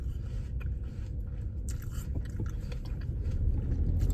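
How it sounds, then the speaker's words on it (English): Teeth bite into a crisp apple close up, with crunchy, wet chewing over a steady background hiss and no talking. "I like biting an apple and a whole chunk comes off and you don't see the teeth marks."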